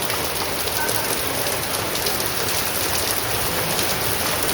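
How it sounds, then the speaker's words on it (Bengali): Heavy rain pours down in a steady, dense wash of hiss and patter that stays loud and even throughout, with no voices. "সমানে বৃষ্টি চলে আসছে দেখো।"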